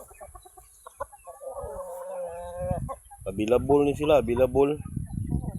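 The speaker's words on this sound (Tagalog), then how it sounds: "So, dira to mga manok ko." Black Australorp breeder chickens on a farm give soft clucks and a few louder squawking calls at close range, mixed with a person talking nearby.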